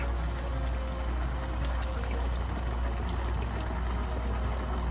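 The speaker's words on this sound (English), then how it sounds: "Now you add your oil." About two to three cups of cooking oil pour steadily into a pot of tomato paste and water for Romani stuffed cabbage, a continuous, loud, close splashing pour without pause.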